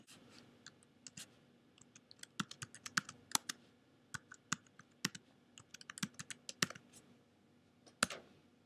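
Someone types a password on a computer keyboard, producing a string of soft, irregular key clicks with short pauses, quiet and close with no speech.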